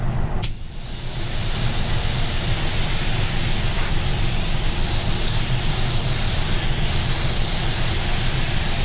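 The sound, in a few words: spray painting a panel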